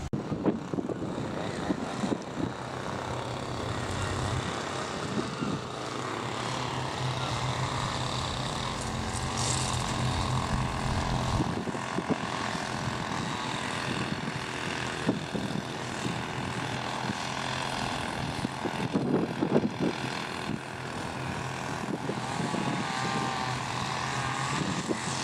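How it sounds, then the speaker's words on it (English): Grass-cutting machinery droning steadily at a large Victorian cemetery in Bridlington, East Yorkshire, a continuous engine hum running throughout at moderate distance with no speech. "the cemetery workers are busy cutting grass, so have to put up with a bit of noise"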